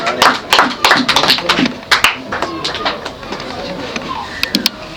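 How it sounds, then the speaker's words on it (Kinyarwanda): Wedding guests applaud together in a lively burst of clapping that keeps going with uneven claps throughout, while a crowd murmurs underneath. "mwabahaye amashyi"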